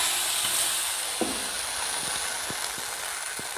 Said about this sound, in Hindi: ये तड़का इसमें डाल देती हूँ।